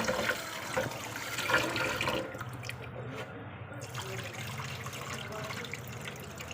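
Water poured and swished over white sorghum grain being rubbed and rinsed in a bowl at home, a steady splashing wash that is louder at first and then settles into continuous trickling and sloshing.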